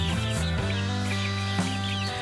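Chicks offered for sale, including a parrot-beak, black-skinned chicken type, peep and cluck together in a steady, busy chorus of overlapping calls close by, with no talk.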